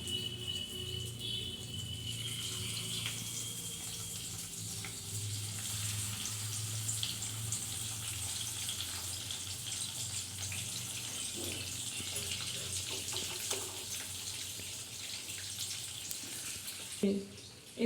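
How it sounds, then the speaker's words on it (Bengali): Hilsa fish frying in hot oil in a pan, giving a steady, dense sizzle that holds evenly from start to finish. "আমার গরম তেলে আমি মাছগুলো সব ছেড়ে দেব"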